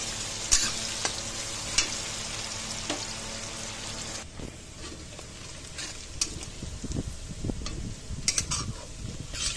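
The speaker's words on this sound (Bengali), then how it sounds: "তো পেঁয়াজগুলো দিয়ে আমি খুব ভালো করে ভাজতে থাকবো।" Onions frying and being stirred in a pan while cooking a chicken curry, a steady close sizzle with intermittent scraping and clinks of a utensil against the pan, no voices.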